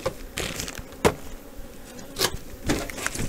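Honeybees buzzing around an open hive during queen rearing, with a steady insect drone broken by a few sharp wooden knocks and thumps from handling the hive, close by with no talk.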